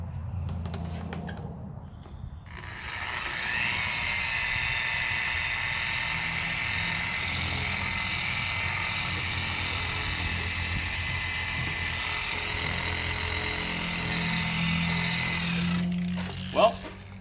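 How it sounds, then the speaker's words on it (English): Steady power-tool whirring as a car headlight is sanded at 1200 grit, running continuously for over ten seconds at moderate loudness after a short quiet start, with no speech over it. "So I sanded 1200 grit on their nose cone."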